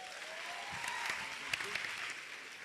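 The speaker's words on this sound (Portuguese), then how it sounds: "Salva de palmas, Gabriel." Applause from a small crowd, a steady patter of clapping hands that continues evenly throughout, fairly quiet and a little distant.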